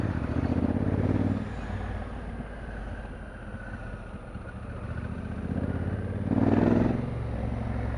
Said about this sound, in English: Oh, the noise it makes. Twin sounds gorgeous.